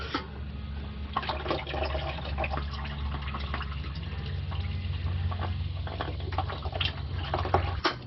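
Oil from the filter of a Jeep Wrangler JK pours steadily into a drain pan, a continuous splashing trickle with small gurgles and drips, moderately close and with no talking.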